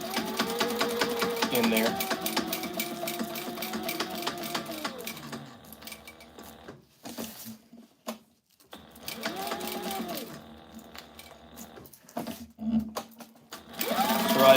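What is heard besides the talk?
sewing machine sewing Velcro closure onto tactical gear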